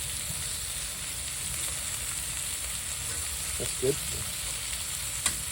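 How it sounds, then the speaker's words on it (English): Steaks fry in a hot pan at an ice camping cook-out in the Rockies, giving a steady close-up sizzle with a couple of brief clinks and a short spoken remark partway through. "those steaks are sizzling nicely"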